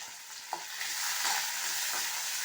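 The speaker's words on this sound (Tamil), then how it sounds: "முட்டை தொக்குன்னும் போது கொஞ்சம் ஆஃப் ஃப்ளேம் தான் வதக்கியிருக்கிறேன்" Onions sauté on half flame for an egg thokku, a soft even sizzle with a couple of spatula taps and stirring scrapes, close and unaccompanied by talk.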